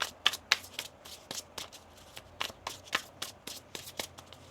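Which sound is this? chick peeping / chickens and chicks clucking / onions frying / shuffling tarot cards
shuffling tarot cards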